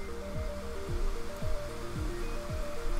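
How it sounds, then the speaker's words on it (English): Water flowing in the video game Dig or Die, a steady broadband rush like a waterfall or stream, joined by repeated falling-pitch game tones and a sustained musical drone, constant and fairly loud throughout. "Oh, that beautiful water sound though"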